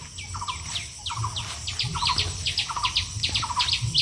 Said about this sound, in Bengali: দেখেছো পাখির ডাক কি সুন্দর শোনা যাচ্ছে সকালবেলা